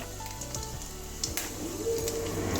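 Dried red chilies and panch phoron spices crackling in a little hot oil in a kadai, a steady soft sizzle with faint pops throughout.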